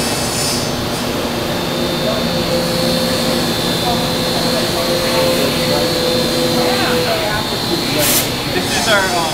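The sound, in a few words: CNC mill cutting ukulele necks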